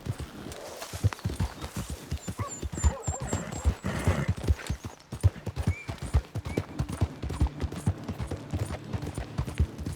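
Horse hooves in Red Dead Redemption clop in a steady rapid galloping rhythm throughout, close and loud, with a brief whinny, faint rider calls and other game sounds mixed in.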